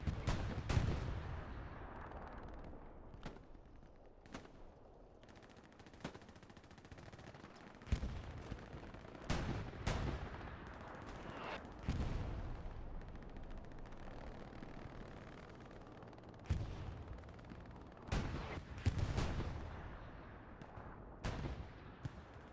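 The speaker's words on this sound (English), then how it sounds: "Attention comes in the form of howitzers and 87mm tank rounds." Howitzer blasts and 87mm tank rounds in the Hell Let Loose game on the Kharkov map, a series of sharp booming impacts scattered irregularly over twenty seconds, some near and loud, others distant, with rolling echoes between them.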